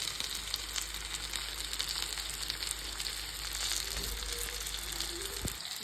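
Cauliflower pieces fry in an oil-filled pan with spices for gobi rice, giving a steady, close crackling sizzle over a low background hum.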